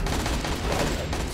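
Enemy gunfire in The Amazing Spider-Man 2 game comes as a brief, dense rattle of rapid shots, steady and fairly loud across a short burst.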